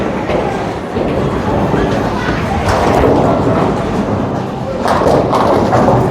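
A Motiv bowling ball rolls down a lane on a heavy oil pattern with a loud, steady rumble, and a few dull thuds of impact come through near the end.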